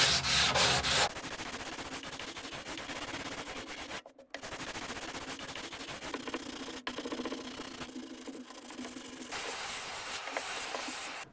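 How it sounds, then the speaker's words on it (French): Steady rasping strokes of hand sanding with a sanding block on a wooden coffee table being restored, continuous and close, with a couple of brief pauses between passes. "j'ai une cale à poncer"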